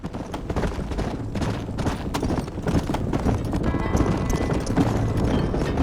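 Several horses gallop in Red Dead Redemption, a dense, continuous drumming of hooves close by that mixes with other game noise and builds slightly toward the end.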